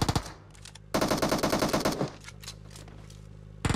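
Automatic gunfire in PUBG as a player shoots at a bot, loud close bursts of rapid shots in two long strings with short pauses between them, no speech over it.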